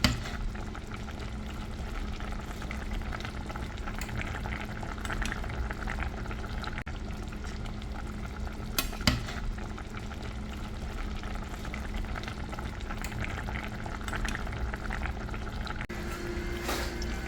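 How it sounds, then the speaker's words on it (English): A pot of Caribbean chicken stew with potatoes bubbles and simmers steadily, with soft gurgling and popping close by and a few brief clinks partway through. "I'm gonna add some water to let everything boil"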